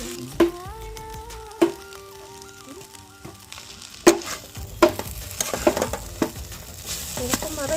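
Boiled chowmein being stir-fried with vegetables in a pan, a soft sizzle under sharp clanks and scrapes of a utensil striking the pan at irregular intervals, with faint ringing tones in the background.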